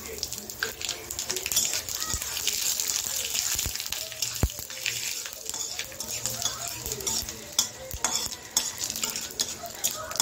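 Panch phoron whole spices hitting hot oil in a frying pan with a steady close crackling sizzle, broken by a few sharp clinks and taps of a utensil on the pan.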